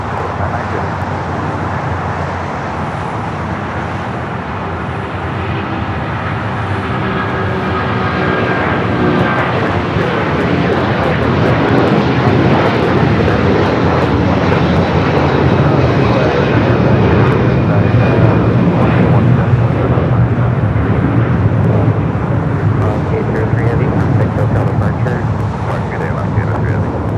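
A Piper propeller plane taking off from runway 25 left at LAX, a loud continuous engine drone that builds and holds over airport background noise, with talk over it.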